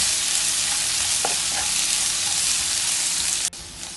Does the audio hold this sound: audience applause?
no